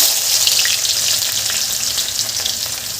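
Chopped onion hits hot oil with cumin seeds, giving a loud, steady, close-up hiss that holds level throughout with faint stirring beneath, no voices.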